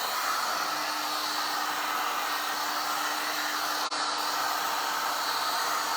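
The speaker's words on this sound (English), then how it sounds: "You want to keep your heat gun moving so you don't bubble your paint or your finish or burn anything." Heat gun blowing steadily while drying paint on a denim effect finish, a continuous close, loud hot-air roar with an even whooshing hiss and no break throughout.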